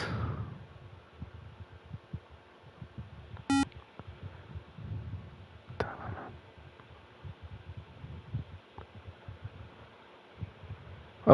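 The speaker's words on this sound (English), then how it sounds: "Oh, it was a phone noise." A phone gives off a short, sharp notification beep, a quick tonal chirp in an otherwise quiet room with faint low background noise.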